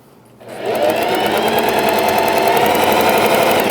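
A sewing machine starts up and stitches the side seam of a pet bandana, settling into a loud, continuous, even whirring drone with no voices.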